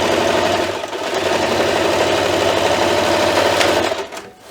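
A sewing machine stitches an oven mitt, a loud, close, steady humming whir with a rapid needle rhythm running continuously before slowing and stopping at the end.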